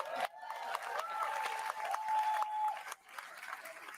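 Broad, steady applause from the audience at a Conservative Party of Canada leadership debate fills the clip, with a brief dip near the start and another toward the end, some faint tonal sounds riding above.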